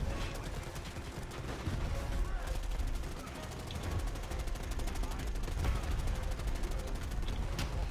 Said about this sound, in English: They're shooting like crazy.